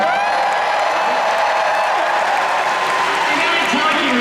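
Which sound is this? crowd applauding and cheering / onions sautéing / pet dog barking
crowd applauding and cheering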